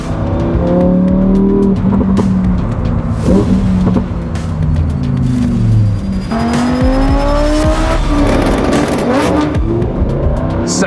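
A Lamborghini Huracan Tecnica engine revs hard as the car accelerates through the gears to 8,000 RPM, loud and close, rising pitch sweeps broken by quick upshifts, with tire and road noise underneath.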